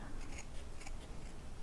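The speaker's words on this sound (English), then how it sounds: "let's cut this out, and again, don't cut the fold, just trim around." Scissors snipping around a felt pattern piece for a needle-felted bunny, a few quiet, crisp cuts at an even pace under a steady low hiss, no talking.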